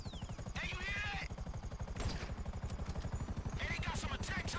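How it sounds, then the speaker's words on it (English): Attack helicopters and gunfire in the video game Grand Theft Auto V: steady rapid rotor-like thumping and bursts of shots run loud throughout, with a voice-like sound rising briefly over them twice. "they got some attack choppers on me."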